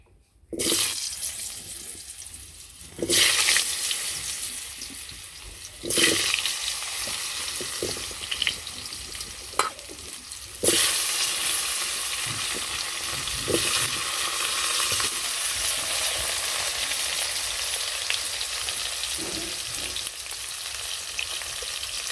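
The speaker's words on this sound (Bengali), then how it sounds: "তো প্রথমে আলুগুলো একটু লাল লাল করে ভেজে নিই" Potato pieces frying in hot oil after fish, a loud, steady crackling sizzle that swells sharply several times as pieces are added or stirred, continuing without talk.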